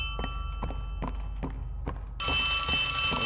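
Phone ringing in the video game Poppy Playtime Chapter 3, repeated short rings at a steady rhythm over a low game hum, with a brighter tonal layer joining partway through.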